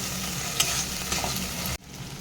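A paste of mustard, poppy seed, cashew and green chilli sizzles and is stirred in hot oil in a pan for a tilapia curry, with a steady close frying hiss and scraping stirs before an abrupt drop in level near the end.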